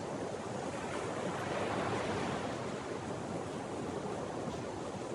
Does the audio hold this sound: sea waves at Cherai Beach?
yes